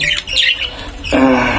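Budgerigars eating coriander leaves squawk and chirp in harsh, high-pitched bursts, close and loud, followed by a buzzier chattering call.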